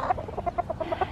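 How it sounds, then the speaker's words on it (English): Farm chickens cluck in a quick, steady series of short calls while eating during morning chores, close and clear with no talk over them. "here's the chickens eating"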